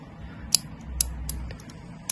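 Buttons pressed one by one on a 10-digit 40mm combination padlock, giving a few sharp, faint clicks spaced irregularly over a low background hum.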